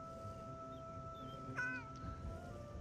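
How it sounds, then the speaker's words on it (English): A cat meows once in Skyrim, a short rising-falling call over steady game ambience and a low background hum, with a softer second chirp just after. "Gotta pet the cat."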